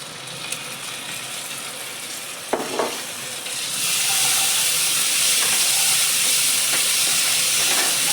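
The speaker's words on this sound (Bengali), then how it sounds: "ভালো করে মশলাটাকে কষিয়ে নেবে" Spice masala with ginger garlic paste and tomato sauce fries in a pan, a soft sizzle that swells into a loud, steady hiss after a clatter of stirring.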